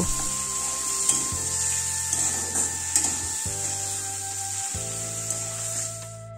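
Okra with poppy seed paste stir-fried in a pan: a steady frying hiss with intermittent scraping stirs, alongside a droning background hum, and no one talking.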